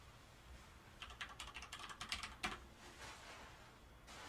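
Quick bursts of keystrokes on a computer keyboard as a password is entered, a rapid run of light clicks followed by a firmer tap, then a few scattered presses in a quiet room.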